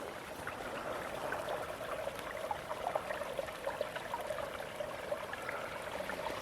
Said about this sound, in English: You could hear the water running down there. underneath the snow.